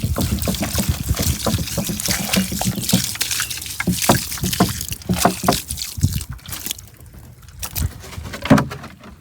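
Water poured steadily from a hose or watering can onto garden plants to soak them, a continuous splashing trickle with a few louder gushes, close by and with no talking.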